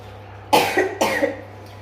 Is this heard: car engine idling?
no